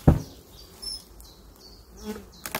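A honeybee colony buzzes at its hive during an inspection, a close, wavering hum that rises and falls for a few seconds between a couple of sharp knocks.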